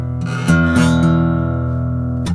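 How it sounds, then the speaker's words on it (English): A strummed guitar chord rings out with a scratchy, grinding pick attack across the strings, then sustains and fades before another scrape at the end. "you start getting that pick grinding sound when you angle it that way"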